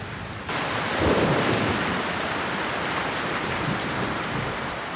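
Heavy rain pours steadily over a river blocked by a landslide, a dense continuous hiss with low thunder rumbling in after a moment, loud and without speech.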